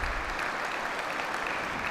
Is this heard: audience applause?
yes